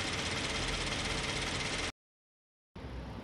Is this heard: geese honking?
no